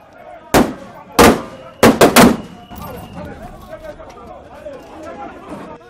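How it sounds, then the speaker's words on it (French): Live gunfire during protests in Goma, several sharp loud cracks in an irregular burst, then a quieter stretch of crowd chatter and background noise. "Des tirs à balles réelles sont parfois entendus."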